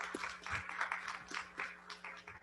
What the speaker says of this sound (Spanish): les pido por favor que a ambos les demos un fuerte aplauso